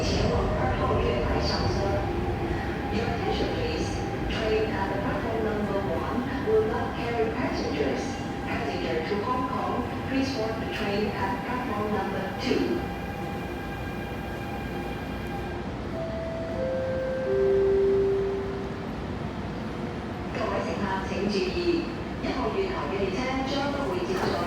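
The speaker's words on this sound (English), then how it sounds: "Got a terminating train coming in." Metro train arriving at Tung Chung Station, a steady rumble of wheels and motor with whining tonal hums that glide downward as it slows, heard under ongoing talk on the platform.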